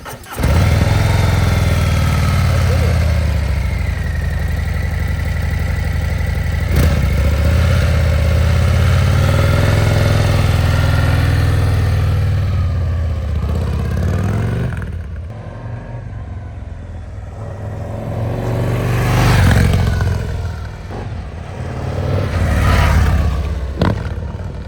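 A 2024 Harley-Davidson CVO Road Glide ST rumbles loudly and close at a steady idle, its deep throb swelling into two brief revs near the end.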